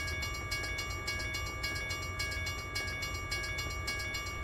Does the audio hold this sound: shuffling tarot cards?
no